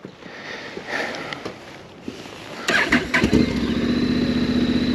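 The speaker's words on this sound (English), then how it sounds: "I'm going to start it up" A Honda NC750X motorcycle engine cranks briefly and catches, then settles into a steady, even idle with a low, smooth thrum, heard close up after a stretch of quiet outdoor background.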